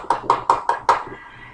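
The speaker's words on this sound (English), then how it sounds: "let's give YouTube a hand clap" Five sharp hand claps in a quick, even rhythm, close and fairly loud, followed by a brief quiet tail.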